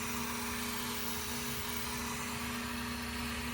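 A steady electrical hum from a Tesla's fuel pump with a faint high buzz runs continuously, low and even, with no voices present.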